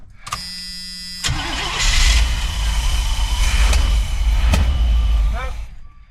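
A GMC van engine cranks and catches roughly, running unevenly and misfiring because of a wrong firing order, loud and close with a whining starter at the start and a person talking briefly.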